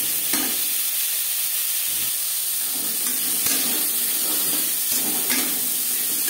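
Pieces of raw mango frying lightly in a pan, giving a steady close sizzle and hiss, with a few soft stirring scrapes and bumps scattered through.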